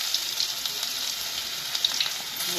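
Garlic paste fries with whole garam masala in hot oil, giving a close, steady, even sizzle with small crackles and no voices.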